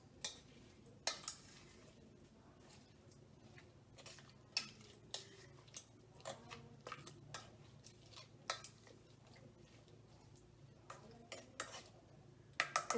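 A tablespoon stirs a corn and green chili salad in a bowl, giving quiet, irregular clinks and taps of metal on the dish over soft scraping, close by and with no talking.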